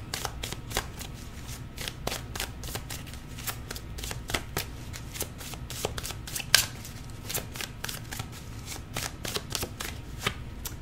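Tarot cards are shuffled by hand in a rapid, steady series of crisp riffling snaps and soft slaps, close and clear over a quiet room for about eleven seconds.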